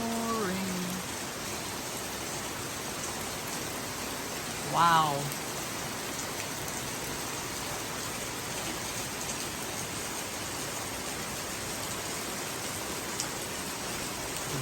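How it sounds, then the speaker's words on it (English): Heavy rain pouring down in Avalon, a constant loud hiss of downpour on surfaces filling the scene, with a brief exclaiming voice partway through. "It's really coming down."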